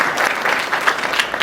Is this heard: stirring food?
no